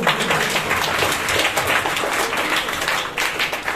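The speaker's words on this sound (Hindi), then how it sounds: "चलिए जोरदार ताली बजाइए।" Audience applause at a televised children's quiz show, a loud sustained burst of many hands clapping together, steady throughout with no voices over it.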